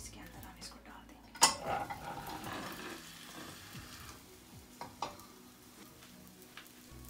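A cheese omelette with fresh herbs and tomatoes cooks in a pan over low heat, giving a soft sizzle under clinks and scrapes of a utensil and pan, with one sharper knock early on.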